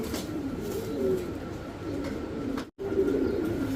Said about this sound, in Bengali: এই যে ডিম বাচ্চা করা কবুতর